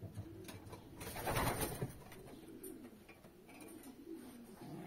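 Young summer-bred pigeons in a loft with a sitting shelf, giving soft repeated coos close by, one louder burst of cooing and a faint flutter in the middle, no talking.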